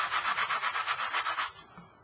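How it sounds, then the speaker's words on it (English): Lightweight sandpaper rubs back and forth over an artist's canvas in about a dozen quick, even strokes, a close scratchy swish that stops abruptly near the end. "I'm just going to sand that down until it's smooth."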